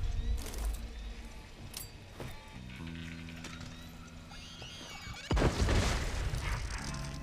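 A grenade detonates in the Deathloop video game, a sudden heavy boom with crashing debris after a stretch of quieter game sounds and tonal hums, no talking.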